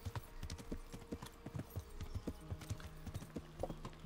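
Horse hooves clip-clop steadily at a quick riding gait in the medieval game Kingdom Come Deliverance, close and clear, with a faint whinny and some background game sounds.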